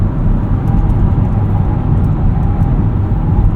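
A 2025 Chevrolet Trax crossover taken hard through a corner, heard from inside as a steady, loud broadband road and engine roar with no voices.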